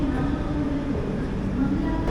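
Train pulling out of Kozhikode station on a Shoranur to Mathura run, a continuous low rumble of rolling railcars heard from on board, steady and fairly loud.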